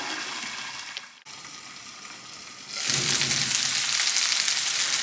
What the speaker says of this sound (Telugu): ఇప్పుడు వీటిని మూత పెట్టి ఒక ఐదు నిమిషాల పాటు మగ్గనిద్దాం